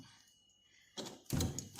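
A door pushed shut indoors, one muffled thunk followed a moment later by a louder, fuller slam close to the listener, with no voices.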